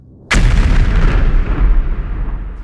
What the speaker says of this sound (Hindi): एक तेज धमाका हुआ।